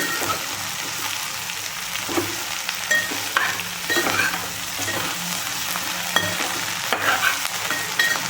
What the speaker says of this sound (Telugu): వేసుకొని కొంచెం సేపు ఆయిల్లో ఫ్రై చేద్దామండి